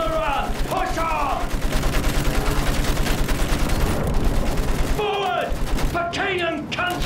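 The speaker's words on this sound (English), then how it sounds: "Use that machine gun. Mow them down." Sustained machine gun fire from the video game Battlefield 1 in a trench battle, a steady rapid rattle of shots with explosions, while voiced game characters shout over it.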